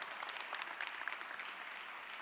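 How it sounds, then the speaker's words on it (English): Steady audience applause fills a conference hall at the Drucker Forum as a panelist is welcomed, a dense even patter of many hands heard from a distance at a soft level. "Receive her with an applause."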